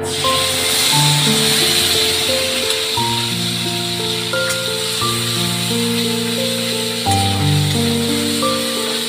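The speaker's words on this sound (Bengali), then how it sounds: "এবার দিয়ে দিচ্ছি ওই মশলার পেস্ট।" Spice paste hitting a hot pan while cooking a mango and snakehead fish dish, a steady close hissing sizzle lasting throughout under soft background music, with no voices.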